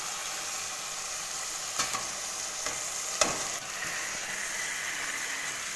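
Chicken marinated for an hour is turned through fried spices in a hot pan, giving a steady close sizzle broken by a few sharp scraping knocks of the spoon.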